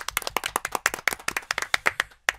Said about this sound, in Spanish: un aplauso para Aristides González